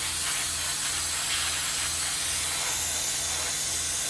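Steady spray hiss from painting a Tamiya 1/48 de Havilland Mosquito scale model, a continuous loud airbrush-like rush over a rhythmic low mechanical pulsing, with no talk.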